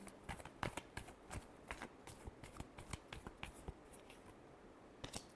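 Tarot cards being shuffled by hand, a run of crisp riffling flicks and soft slaps close by, in quick irregular bursts with no voice over them.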